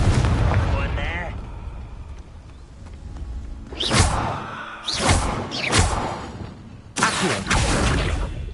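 Explosive blasts from the Confringo fire spell in the video game Hogwarts Legacy: several loud, sharp bursts with roaring tails, spaced a second or so apart, over background game sound with some voice.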